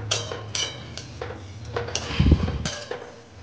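A utensil scrapes and taps against a pan while onion and oats fry, giving a series of sharp metallic clinks at irregular intervals, close and moderately loud, with little audible sizzle beneath.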